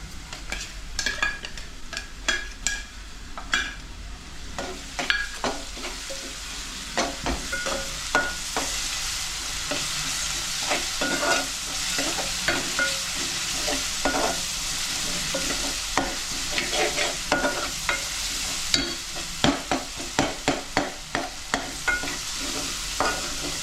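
Ginger-garlic paste fries in a pan with a steady close sizzle, while frequent sharp scraping and clicking strokes from stirring run throughout without pause.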